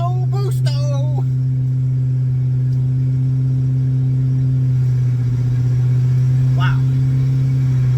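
A car engine fitted with a TS84 TorqStorm supercharger on a stock block drones steadily under boost, loud and close, with a sustained rumbling tone. A man lets out a brief exclamation near the start.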